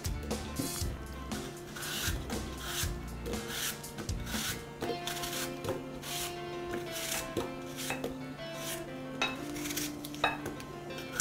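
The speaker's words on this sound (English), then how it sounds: "you can just slice them right into a medium-sized casserole dish" A knife slices apples straight off the core into a medium-sized casserole dish, giving repeated soft rubbing, cutting strokes and light clinks against the dish in a steady rhythm, close and moderately quiet.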